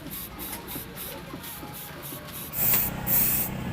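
Spray paint hissing steadily onto a motorcycle sprocket part for a KLX150, a continuous close hiss with faint rhythmic pulsing that grows louder in two bursts near the end.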